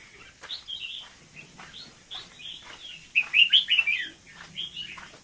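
Small birds in an aviary chirp and tweet in quick repeated bursts, bright and fairly close, with a louder flurry of calls in the middle and faint low rustling underneath.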